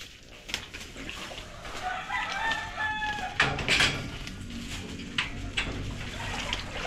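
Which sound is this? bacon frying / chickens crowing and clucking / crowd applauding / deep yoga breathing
chickens crowing and clucking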